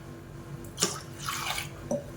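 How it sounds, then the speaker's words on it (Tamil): Water trickles and splashes into soaked tamarind for a fish curry, a soft pouring wash with a couple of brief drips, close and fairly quiet with no talking. "தேவையான அளவுக்கு தண்ணி ஊற்றியாச்சு"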